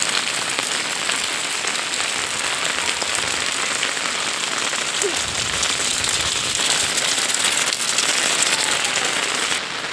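Heavy rain pours down steadily in a dense, constant hiss for the whole stretch, loud and close, with no voices.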